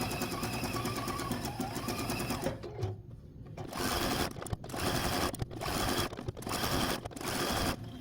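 A domestic sewing machine runs a zigzag stitch around an appliqué petal on a quilt block, its fast mechanical whir starting and stopping in several bursts with brief pauses between runs.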